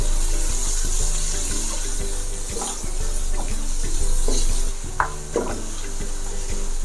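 Onions frying in a pan with salt, a steady sizzle under soft stirring and scraping, with a few sharper clinks near the end and no voices.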